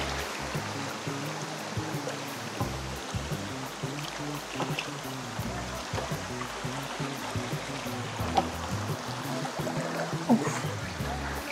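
A waterfall at Sitakunda rushing steadily, a dense broadband roar of falling water heard close and continuous for the whole stretch, with a few faint clicks on top.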